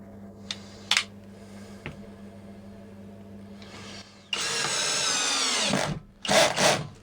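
A power drill fastens an LED aluminium ceiling profile in place for a DIY stretch ceiling with wall lighting, with a long whirring run in the middle and two shorter bursts near the end, plus a few faint knocks before.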